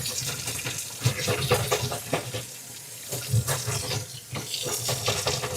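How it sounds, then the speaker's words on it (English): Tap water runs steadily into a sink over a paste-covered stencil being rinsed, a close, continuous splashing hiss with small surges as the stencil is moved under the stream, no talking. "The more water I have running over the stencil, the easier it is to get all the paste off."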